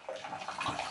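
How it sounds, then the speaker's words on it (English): Water sloshing and splashing in a bathtub, a brief close wash of broadband splashing with no voices. "No, we don't put water out of the tub."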